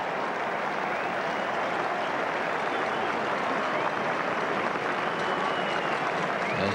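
A cricket crowd at Headingley in Leeds applauds steadily during a 1976 England v West Indies Test match, a dense, even wash of clapping from a large, fairly distant crowd that continues throughout.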